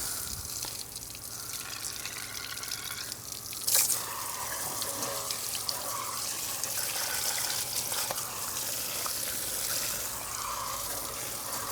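Water floods over a car wheel to rinse off cleaner from a Mile Deep wheel cleaning bundle, a steady hissing spray and splash with scattered drips, moderately faint and continuous.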